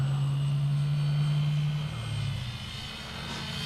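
An E-Flite Pitts S-1S radio-controlled stunt plane buzzes overhead, a steady high-pitched electric motor drone that shifts in pitch as it passes, with wind and outdoor background noise.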